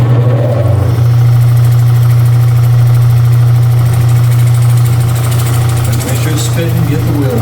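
A wet lapidary grinding wheel runs while shaping a cabochon, giving a loud, steady motor hum with a strong constant tone and faint grinding texture.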